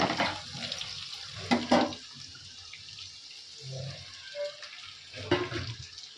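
Soybean is added to a pan of fried potatoes, producing a few sharp bursts of sizzling and splashing. Quieter stretches of low frying hiss and light clattering lie between the bursts, heard close up without talk.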